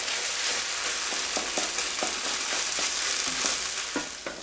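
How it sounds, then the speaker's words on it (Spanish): Steady crackling sizzle of shrimp frying in a pan with salt and cumin, with occasional soft scrapes of stirring, close and continuous throughout. "Y seguimos friendo un par de minutos."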